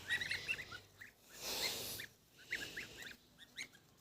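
Domestic geese and small goslings call in a short series of honks and peeps, close and moderately loud, with a louder burst of honking in the middle and fainter chirps toward the end; no talking.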